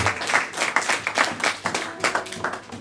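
A church congregation claps and applauds in a steady, lively burst of many hands, filling the room without any spoken words over it.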